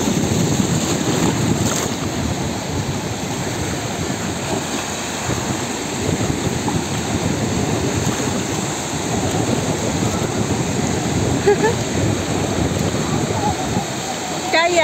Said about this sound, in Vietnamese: Sóng biển này nè,